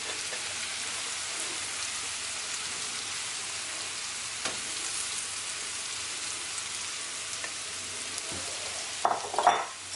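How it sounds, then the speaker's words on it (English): Boiled potatoes go into a frying pan and are stirred for samosa filling, with a steady close sizzle throughout and a few scraping stirs near the end. "Let's add the potatoes."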